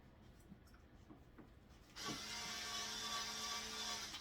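Faint clicks and taps give way to a steady whirring drill motor that runs on at a constant, fairly slow pitch, close by.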